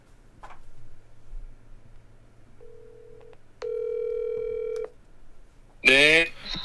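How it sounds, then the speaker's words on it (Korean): A phone call is placed: short keypad beeps, then a longer steady dialing tone and a held multi-pitch tone, with a voice coming in at the end. "자, 전화해 볼게요."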